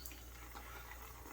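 Water running from a tap to add to thirsty shaving soap while lathering, a faint steady trickle and splash with no talking.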